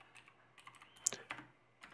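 Keys pressed on a Razer BlackWidow Tournament mechanical keyboard: a quiet run of close, crisp clicks, with one sharper, louder press partway through and a few scattered taps after, with no talking.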